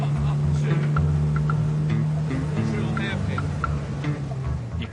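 A 1972 MGB race car with a basically standard B-series engine drones steadily and fairly close, its engine note holding constant, with a voice talking over it.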